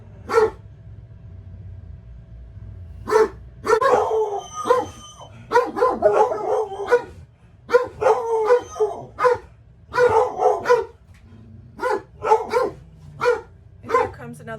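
Several neighborhood dogs bark in repeated loud bursts with yips and howl-like tones at close to mid range, while speech murmurs underneath outdoors at a campsite.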